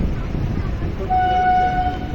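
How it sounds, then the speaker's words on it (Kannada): The Chennai Vande Bharat train arrives at a station amid a low rumble of rail noise, with a sustained horn tone sounding in the distance during the second half. "ಆ ಕಡೆ ನೋಡ್ರಿ ವಂದೇ ಭಾರತ್ ಬರಾಕತೈತಿ"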